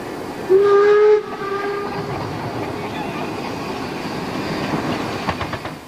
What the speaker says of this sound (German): die 99411 den ersten planmäßigen Zug des Tages gen Osten befördert